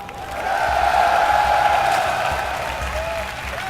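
A large live crowd at the MLG Columbus 2011 StarCraft II event cheers and applauds for player Losira, a loud steady wash of clapping and voices that builds quickly and holds for a few seconds.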